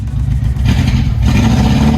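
A Nissan Sunny pickup truck engine idles steadily while still cold, a continuous low rumble with a slight rhythmic pulse and some clatter, close and loud with no voices.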